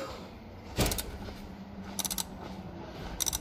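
A puller working to extract the vacuum pump from a BMW N52 engine gives sparse, sharp metallic clicks and ratcheting bursts over a faint steady background hum.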